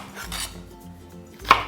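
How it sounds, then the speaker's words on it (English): Kitchen knife cutting the ends off washed green onions on a cutting board for homemade potato salad, a few soft close chops ending in one sharp knock. "with the green onions, after you wash them, we're going to just cut off the ends here"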